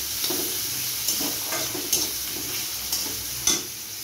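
Crushed ginger stirred and fried in a pan, a steady close sizzle broken by about five light scraping stirs at irregular intervals.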